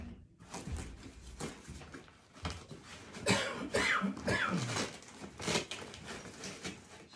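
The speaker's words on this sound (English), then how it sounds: "excuse my cough" Several short coughs and throat-clearing sounds scattered through the clip, close by, with faint rustling and handling noises between them.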